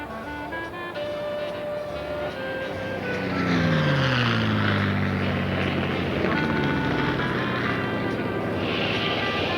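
Vintage warbirds at an airshow fly past, a liquid-cooled Merlin V12 of about 1,700 horsepower and a Corsair's 2,000-horsepower R2800 radial, engine roar swelling and sliding downward in pitch as the aircraft pass, loud and alone.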